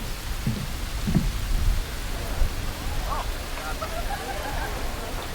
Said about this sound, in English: As the deluge continues outside